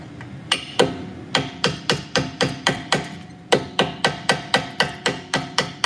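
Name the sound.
air hammer hitting Tesla Model 3 brake pin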